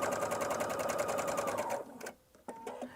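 A sewing machine stitches the center back seam of a blouse in a fast, even run of needle strokes, then stops, followed by a few soft clicks and handling noises close by.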